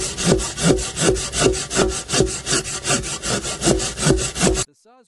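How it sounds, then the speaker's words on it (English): A hand saw cuts through a large tree trunk in steady back-and-forth strokes, each pass rasping loudly and close through the wood in an even rhythm, ending abruptly with silence. "His saw bites into the scored line, spitting fragrant sawdust as he cuts the trunk into manageable segments."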